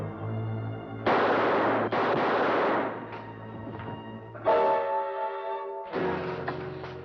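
Gunshots ring out in a French-dubbed episode of the television series Voyage au fond des mers, a few sharp loud bursts separated by brief pauses over a low hum, with no talking.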